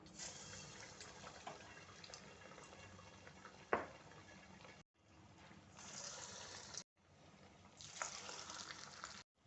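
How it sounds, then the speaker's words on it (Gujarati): Dal-rice vadas deep frying in hot oil over a medium flame give a steady, close hiss and bubbling sizzle, with one sharp crackle partway through and two brief dropouts before the frying noise swells back up. "હવે આપણે આને ડીપ ફ્રાય કરીશું"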